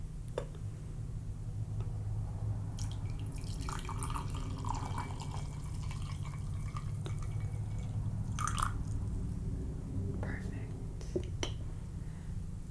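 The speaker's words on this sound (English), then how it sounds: "I'm going to go ahead and pour the tea for us, okay? I'm going to pour yours first." Tea poured up close into a cup during a quiet ASMR tea preparation, giving soft, intermittent trickling and dripping over a low steady hum, with faint whispering in places.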